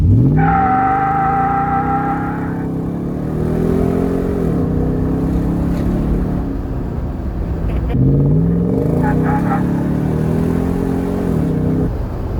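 A loud Nissan Titan pickup truck with a cheap aftermarket exhaust revs up repeatedly with a deep, rumbling exhaust note, rising and settling in several pulls while the truck rolls along.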